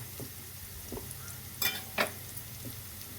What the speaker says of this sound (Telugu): మంచిగా వేగుతున్నాయి అరటికాయ ముక్కలు